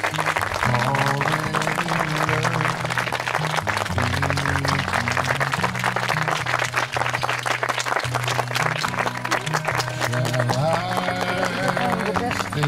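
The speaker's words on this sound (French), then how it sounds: "On va pouvoir l'applaudir tout de même." Wedding guests at a secular ceremony applaud the bride and her father, a dense, continuous clapping from a crowd mixed with loud music and murmuring voices.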